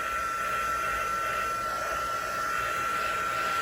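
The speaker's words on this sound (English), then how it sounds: "am going to just really quickly hit this with my heat tool just to dry it slightly" A heat tool blows continuously to dry ink on a card in a papercraft setting, a steady close whooshing hum with a faint whine, no speech.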